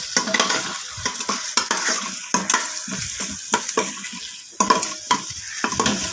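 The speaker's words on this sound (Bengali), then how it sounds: "আর এখন আমি পেঁয়াজ কষাচ্ছি" Onions frying in a pan for a mutton dish, stirred with a utensil in repeated close scraping strokes over a continuous sizzle.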